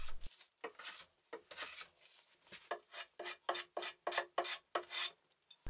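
A wooden bench leg at a bridle joint is smoothed and chamfered by hand, giving a close, quiet series of about a dozen rhythmic rasping strokes with short pauses between them.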